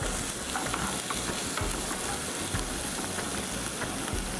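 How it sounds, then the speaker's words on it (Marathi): Finely chopped onion sautés in a pan until golden, giving a steady, close, dense sizzle with occasional stirring scrapes and no voices. "त्यामध्ये बारीक चिरलेला कांदा आणि सोनेरी रंगावर कांदा परतून घेऊ."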